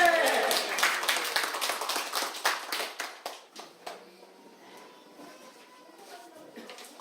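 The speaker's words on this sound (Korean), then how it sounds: "다시 한번 아멘하고 박수 치겠습니다" Korean Methodist church congregation clapping together during a Sunday service, a dense burst of applause for about three seconds that quickly thins out into scattered claps and quiet room murmur.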